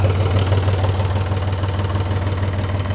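Tractor engine idling steadily while driving a 3-point hitch post-hole auger, a constant low drone with a strong low hum and mild knocking texture, loud and close with no talk.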